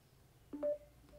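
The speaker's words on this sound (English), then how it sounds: "or you can hear, that's the default notification sound" Default notification sound on a Samsung Galaxy A3 phone, a short soft two-note chime that plays once and faintly in a quiet room.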